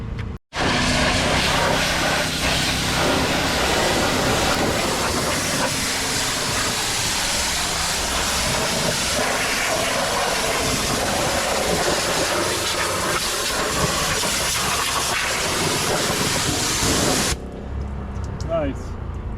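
A foam sprayer hisses steadily while soaping up the wheels of a Ram truck, a loud continuous spray rush lasting about seventeen seconds before cutting off abruptly into quieter background.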